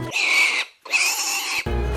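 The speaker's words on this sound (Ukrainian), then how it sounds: "Перше це тому, що свиня верещить." Pig squealing in two long, loud, shrill bursts separated by a brief gap, then cut off by a different low sound at the end; it is tied to the Transcarpathian dish verishchaka.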